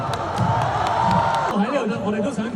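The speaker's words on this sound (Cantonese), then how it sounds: "哇！ 犀利，要俾掌聲佢哋。" An audience at Jisoo's fan meeting in Hong Kong breaks into cheering and clapping, a loud crowd swell with scattered claps that fades into a voice speaking over the remaining noise.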